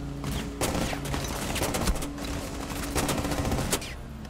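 Rapid gunfire from a gun in the video game Rainbow Six Siege, with dense bursts of shots rattling almost without pause, loud and close.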